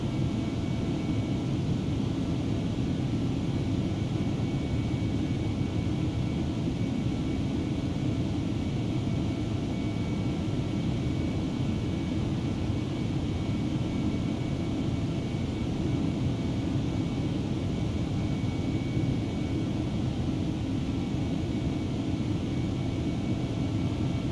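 Steady, even cabin drone of an Airbus A319 airliner cruising in flight in Microsoft Flight Simulator 2020, a constant low rumble and hiss with no talk over it.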